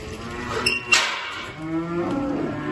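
Hungry farm cows moo loudly and close by while waiting to be let in for feeding, a couple of drawn-out bellows with no speech over them.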